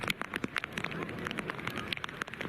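Rain falling during a division II cricket final, a dense steady patter of drops striking surfaces with scattered sharper taps, fairly close and moderately loud, no voices.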